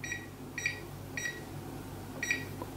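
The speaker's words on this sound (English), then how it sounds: "on the OSD, it makes a strange beeping noise" Four short electronic beeps from the menu buttons of a Dell UP2716D monitor, evenly spaced and fairly quiet over a low background hum, no talking.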